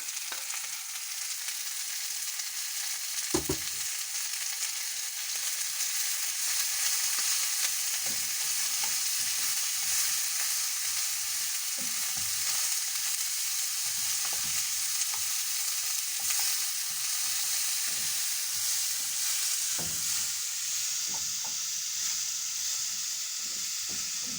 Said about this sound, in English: I'm going to add my leeks, roughly cut leeks and onions. Let them cook also until they are golden brown.